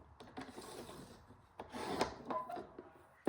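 Paper being cut to size for mini folders, a few quiet scraping and rubbing strokes with soft taps, close and faint, with no voices.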